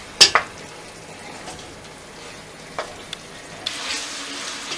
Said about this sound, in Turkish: Bunlarla da biraz kavuracağım. Soğanlarla birlikte.